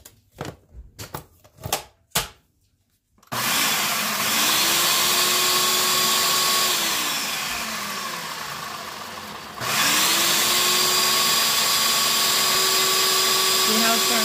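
A food processor whirls a sugar and crumb cheesecake crust mixture with a loud, steady motor roar in two long bursts separated by a short dip, following a few brief knocks as the lid goes on.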